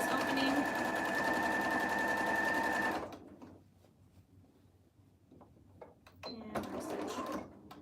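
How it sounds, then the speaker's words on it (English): A sewing machine top stitches along the opening of a fabric surgical scrub cap, running in a steady fast whir for about three seconds before stopping, followed by quieter handling clicks and a voice. "I'm just gonna top stitch along this opening."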